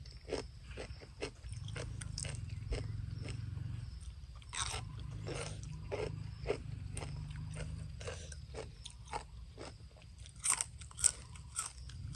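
Someone bites into a whole chili pepper in a rural field hut, crisp crunches and chewing repeating close by at an irregular pace, with no talk.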